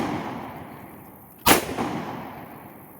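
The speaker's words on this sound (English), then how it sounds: "It's about to fire." A pistol fires a single loud, sharp shot after being run through a mud test, with a brief echo trailing off.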